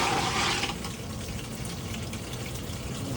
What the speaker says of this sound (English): Foot pedal flush on your toilet.